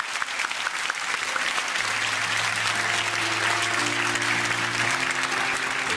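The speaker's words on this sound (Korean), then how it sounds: "우리 12분의 장로님 큰 박수로 축복해 주시기 바랍니다." A church congregation at a New Year's Eve service applauds its twelve elders with loud, dense clapping that holds steady throughout, while sustained keyboard-like tones play underneath.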